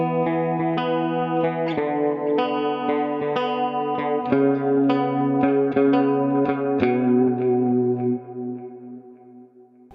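A clean electric guitar played through a Dynacomp-style compressor from a Kemper profile, with sustained, evenly compressed notes and chords that bloom with chorus-like shimmer, played alone and close.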